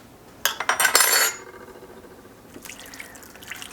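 Homemade French onion soup tipped into a pot brings a quick run of close, sharp clinks and splashy liquid sounds over about a second, then a quieter trickle and faint clatter.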